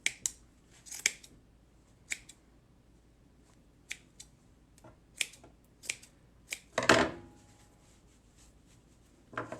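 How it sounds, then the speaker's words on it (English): Scissors snip through yarn ends to trim a tassel for a handmade gnome's hat: about a dozen crisp, close cuts come in irregular bursts, with a small fabric rustle between them and no talk. "And then we'll go in and cut the ends to make a cute little tassel for the end of our hat."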